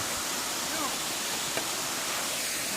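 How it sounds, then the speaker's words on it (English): Katoomba Falls in the Blue Mountains, a waterfall that spills down more like a cascade, gives a steady broadband rush of falling water that continues unchanged throughout, with no voices over it. "it's less of a waterfall and more of like a cascade"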